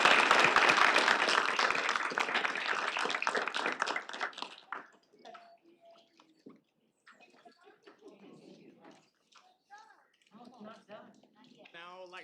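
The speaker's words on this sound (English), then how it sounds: "let's give another round of applause" Applause from the audience at a PTK honor society induction ceremony, dense and loud at first, then thinning out after a few seconds as a voice begins talking over a quieter room.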